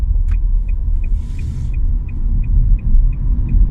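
A 2019 Nissan Leaf SV electric car accelerating hard from 30 to 80, a loud steady low road and motor rumble inside the cabin, with a faint regular chime ticking repeatedly over it and no talk.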